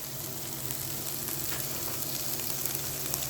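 Green and hot chili peppers with onions sautéing in a pan, giving a steady, close sizzle and crackle of frying that continues without a break, with no voices.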